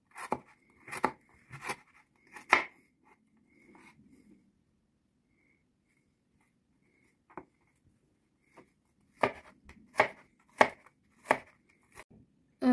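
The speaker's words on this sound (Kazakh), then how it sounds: "Сарымсағымызды да мелкий қылып бақап турап аламыз." Garlic chopped finely with a knife on a board: quick, crisp blade strikes come in short bursts, then a long quiet pause, then another close run of cuts, with no talking.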